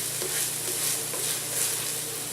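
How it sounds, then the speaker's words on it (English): Chopped onions for beef stroganoff fry over medium heat in a pan, giving a loud, steady, close sizzle with faint scraping textures throughout. "We're going to cook these onions for about 3 minutes on a medium heat."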